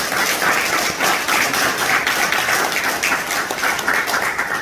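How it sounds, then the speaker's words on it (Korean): A lecture audience in Gwangju breaks into sustained applause, dense clapping filling the room steadily from start to finish without any voices. "박수 한번 부탁드리겠습니다."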